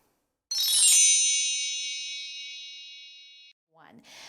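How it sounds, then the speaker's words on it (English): A single bright notification bell ding rings out clearly and decays slowly over about three seconds before cutting off, followed by a brief soft rustle. "You can also hit that notification bell so you don't miss out on any upcoming fun."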